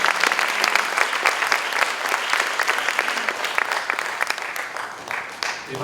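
Audience applause at a symposium of the World Culture Forum 2016, a dense, steady clapping from a sizable crowd sustained for several seconds and tapering slightly toward the end.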